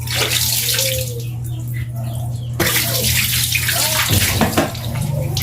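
Running water rushes steadily over a motorcycle brake caliper from a Yamaha Mio i 125 as it is washed, a loud close splashing and gushing that shifts in intensity, with a low steady hum underneath.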